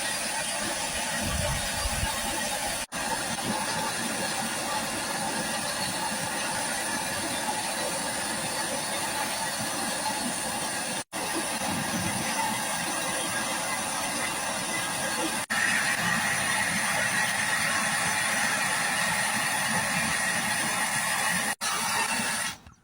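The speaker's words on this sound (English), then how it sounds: "We get the blowtorch out." A blowtorch heats the DPF vaporizer on a 2.2 FWD Ford Transit, giving a steady, loud roaring hiss that runs unbroken through the whole stretch with a few brief dropouts.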